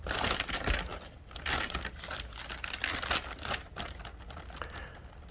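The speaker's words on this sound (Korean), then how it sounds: "그리고 이 담은 거를 지퍼백 안에다가 이런 식으로 넣어주시는 거예요." A container of mushrooms is pushed into a plastic zipper bag, giving continuous close crinkling and rustling of plastic in uneven bursts.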